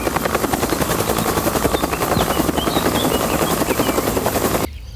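Toy helicopter with spinning rotor blades, picked up during toy cleaning, gives a steady, loud buzzing whir with a fast rhythmic chop that carries on for about five seconds and then cuts out abruptly near the end.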